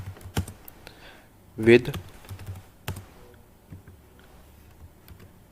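Computer keyboard keys tapped in short, scattered bursts while code is typed into a JavaScript template string, with someone talking over the clicks.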